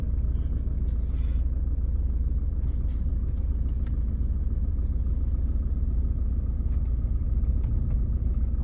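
A car drives along a road with a constant low rumble and engine hum that holds steady and close throughout, with no voices.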